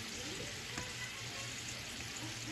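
Mushrooms and garlic fry in a pan with a quiet, steady sizzle throughout and a brief stirring scrape, no voices.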